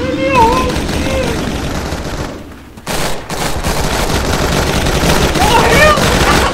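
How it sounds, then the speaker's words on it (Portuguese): Rapid video-game gunfire rattles in loud bursts, with a brief lull near the middle before the shooting resumes, while someone talks excitedly over it. "Ele errou o tiro!"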